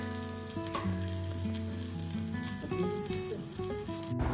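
Coriander, turmeric and cumin sizzle loudly in a frying pan with ginger paste, a close, continuous hiss running under steady tonal background music.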